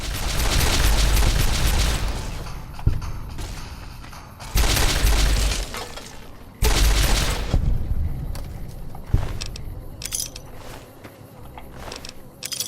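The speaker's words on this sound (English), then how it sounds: "that gunfire in the distance and the sound of splattering viscera" Bursts of heavy gunfire and explosive booms from the video game Fallout: New Vegas come in loud clusters, separated by quieter stretches with scattered sharp cracks and clinks.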